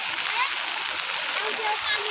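Water pouring through drain pipes into a flooded rice paddy during rainy-season planting, a steady rushing splash heard close by while a voice talks over it.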